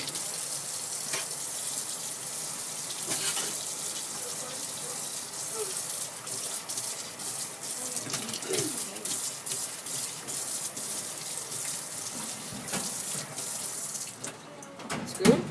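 Tap water runs steadily into a sink as microscope slides are rinsed under it, a continuous close gush with small splashy changes as the flow hits the glass.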